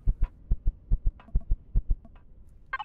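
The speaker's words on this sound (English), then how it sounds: "Is it your heartbeat or mine?" A heartbeat in Empyrion: Reforged Eden thumps in steady, loud lub-dub pairs, about seven beats in a row, before a brief different sound at the very end.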